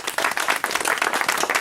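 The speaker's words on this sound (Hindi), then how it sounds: "तो माननीय कांशी राम जी के लिए एक बार ताली बजाइए" Audience applause for Kanshi Ram at a community social service gathering in Hamirpur district, steady dense clapping from a crowd throughout, loud and close with no voices over it.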